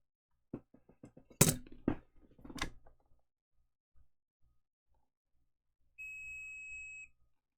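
A multimeter gives a steady, high electronic beep for about a second after some faint clicks and clatter while probing a Nintendo Switch, clear and close in an otherwise quiet setting.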